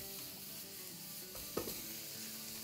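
Tomatoes and onions grilling on a hot griddle, a soft, steady sizzle with faint crackles and one brief scrape or knock midway, quiet and close with no voices.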